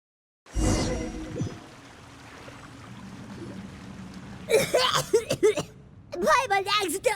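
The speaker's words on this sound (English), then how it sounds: "Paimon accidentally swallowed some water." Splashy water rush as a Genshin Impact character goes under and swallows water while surfing waves, a loud gulping burst at the start fading into murky underwater rumble, then gasping voices and talk.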